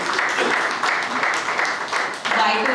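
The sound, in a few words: applause for Joseph Martin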